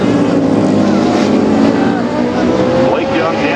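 Racing motorcycles roar loudly through a downshift into a turn on a circuit, engine pitch shifting and wavering as they brake, with a commentator's voice running over the engine noise throughout.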